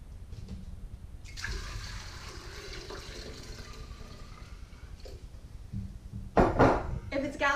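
Water pours into a gallon kombucha jar holding cooled tea and starter, a steady broadband rush running for several seconds, then splashier bursts near the end, close and moderately loud.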